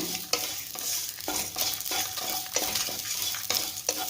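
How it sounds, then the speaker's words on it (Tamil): Grated coconut roasting with spices in a pan for Chettinad paneer gravy, stirred steadily: rhythmic scraping strokes about every half second over a soft dry sizzle, close and fairly quiet, with no talking. "4 டேபிள் ஸ்பூன் ஆகிற மாதிரி தேங்காய் துருவலுங்க, அதையும் இதோட சேர்த்து நல்லா வறுத்தரலாங்க"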